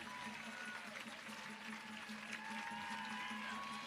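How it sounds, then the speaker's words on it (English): A crowd at a counter-protest rally in Washington, DC claps steadily as people make their way to a stage, a soft continuous patter of applause heard from a distance and mixed with faint voices. "and we clap and we honor them"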